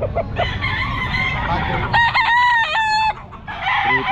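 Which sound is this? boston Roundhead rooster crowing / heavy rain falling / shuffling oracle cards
boston Roundhead rooster crowing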